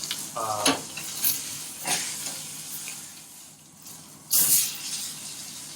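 A pork porterhouse chop sears in a hot pan with a loud, close sizzle, with bursts of scraping and handling noise over the continuous frying hiss and no speech.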